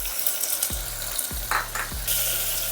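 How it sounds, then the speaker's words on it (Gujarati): Onion drops into hot oil already holding cumin, cinnamon, cloves, curry leaves and asafoetida for a vegetable pulao. It gives a steady close sizzle, broken by three soft knocks of a utensil against the pan. "પછી આમાં ડુંગળી નાખી દેવાની."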